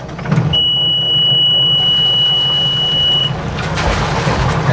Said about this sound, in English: let's get this iron engine fired up